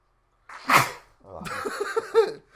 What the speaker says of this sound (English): I'm probably about to sneeze.